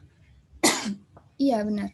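Two sharp coughs from a person feeling unwell during an online presentation, the first a harsh burst and the second a longer raspy one, close and loud, with a brief spoken reply between them.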